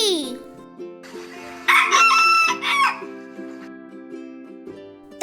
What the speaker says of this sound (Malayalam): പൂവൻ കോഴി